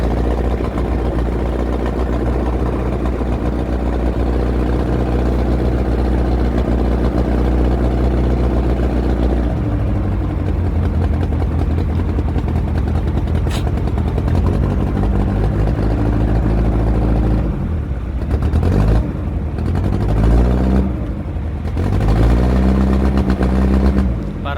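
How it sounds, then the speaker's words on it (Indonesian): Engine of a sea taxi boat easing off speed while coming alongside another ship, a loud low throbbing drone that drops in pitch partway through, then wavers and surges unevenly near the end. "Kita menumpang di taksi laut lambung 30 kawan."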